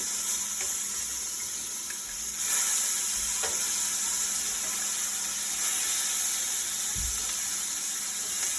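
Scrambled eggs sizzle in a hot skillet during breakfast cooking, a steady close frying hiss with faint scraping and stirring, plus a few soft knocks.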